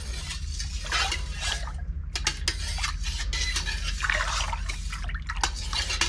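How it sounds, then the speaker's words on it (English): Dye is stirred into a pot of plain, unheated tap water with no citric acid added. A utensil swirls and clinks against the pot in irregular bursts, with soft sloshing and drips, close and fairly quiet. "So we're gonna stir this up."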